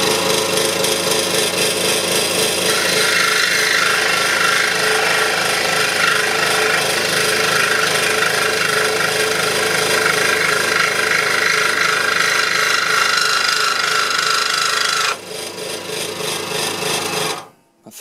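A Scheppach scroll saw cuts through hardwood with a loud, steady rasping buzz of the reciprocating blade that runs continuously, changes character near the end, then stops abruptly.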